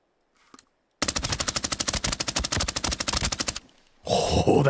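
Automatic weapon fire in the video game Arena Breakout: a loud, rapid sustained burst of shots at a steady rhythm for about two and a half seconds, then a brief lull and a harsh noisy rush.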